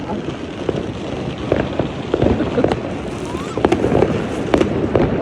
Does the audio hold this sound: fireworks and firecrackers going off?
yes